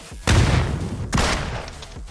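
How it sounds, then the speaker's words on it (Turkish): Two loud, sharp bomb blasts in an online shooter game burst a second apart, each decaying into a rumbling tail close by. "Kafasına bomba attım aşağı atlarken kafasında patladı"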